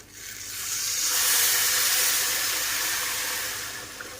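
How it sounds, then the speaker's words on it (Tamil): Tamarind water poured into a hot pan of sautéed curry leaf mixture sends up a loud, broad hiss of sizzling steam that swells, holds, then slowly fades, with no voices. "இப்போ நம்ம புளி தண்ணி சேர்த்துக்கிறோம்"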